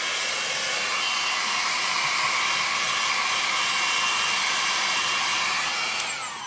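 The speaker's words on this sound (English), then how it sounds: "We are going to turn on a blow dryer and get this all nice and dry." A hand-held blow dryer runs steadily on a chalk-ink print on a tea towel, giving a constant, close, loud airy whoosh with no talking.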